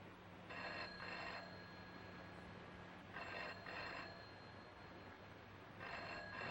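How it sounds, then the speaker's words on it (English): An old-fashioned telephone bell rings in three double bursts, evenly spaced, over a low steady hum, faint and somewhat distant. "They're ringing your room."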